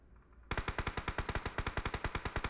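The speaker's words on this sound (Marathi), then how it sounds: "काय तिकडं फायरिंग जोरात चालू आहे" Rapid automatic gunfire in the BGMI battle royale mobile game, a loud sustained burst of evenly spaced shots starting abruptly after a quiet moment.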